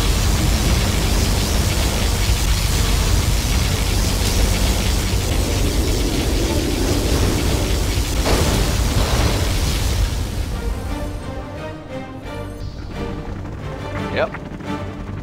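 A massive sustained roar of a particle cannon blast in the Command & Conquer Generals Zero Hour strategy game, loud and noisy for about ten seconds, then fading into quieter rumbling and unit chatter.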